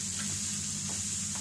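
Ingredients for a prawn curry sautéing in a pan with a little salt, a soft continuous sizzle with a faint steady hum beneath and a couple of light stirring touches, close and quiet.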